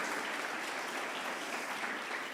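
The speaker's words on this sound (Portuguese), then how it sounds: "Igreja, vamos aplaudir essa visitante em nome de Jesus" A church congregation applauds a visiting guest with sustained, even clapping at moderate volume, a continuous wash of many hands without voices over it.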